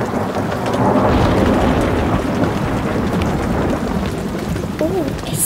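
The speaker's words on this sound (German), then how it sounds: "Oh, es donnert." Heavy thunder rolls through a thunderstorm over steady pouring rain, loud and continuous, with a long rumble peaking early and fading slowly.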